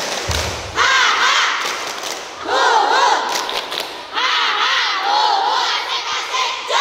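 A group of schoolchildren performing the Indonesian tepuk semangat clapping chant, loud shouted chanting punctuated by rhythmic claps in three bursts.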